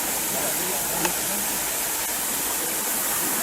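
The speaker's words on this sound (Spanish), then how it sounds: "Este es el brote de agua" Water gushes steadily from a leaking joint in a drinking-water pipe, a loud, continuous broadband rush close by that fills the whole moment.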